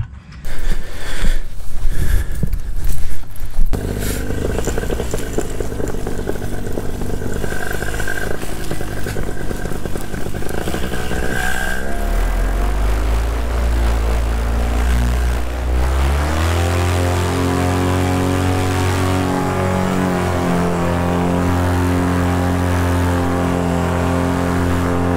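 A paramotor engine running steadily on the ground, first a rough rattling idle, then a loud continuous drone whose pitch sweeps as the throttle changes, heard up close without talk.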